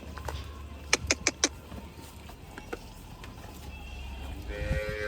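Cattle at a cattle shelter (panjrapol) in Rapar let out a quick run of four short, loud moo-like calls near the start, then a few fainter calls over a steady farmyard background, with a rising hum toward the end.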